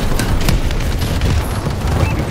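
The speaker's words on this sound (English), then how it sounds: "Friendly bombing run clearing the way" Bombing run explosions in Call of Duty: Advanced Warfare, a loud, rumbling barrage of overlapping booms and blasts filling the whole moment without pause.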